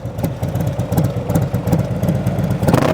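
A performance-upgraded Harley-Davidson motorcycle engine with a D&D 2-into-1 exhaust rumbles steadily nearby, its loud, even firing pulses forming a deep, throbbing beat.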